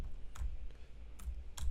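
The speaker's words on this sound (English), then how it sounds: "I'm not used to typing like this." A few isolated keystrokes tapped on a computer keyboard in a kitchen podcast studio, landing as three sharp, separate clicks over a low room hum with no talking.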